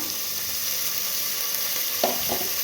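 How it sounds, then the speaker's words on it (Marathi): Vegetables such as peas, potato and tomato being stirred in a hot pan for veg pulao, a steady sizzle with a couple of scraping spoon strokes near the end. "आणि व्यवस्थित हलवून घ्यायचं हे भाज्या टाकून घ्यायच्या त्याच्यामध्ये"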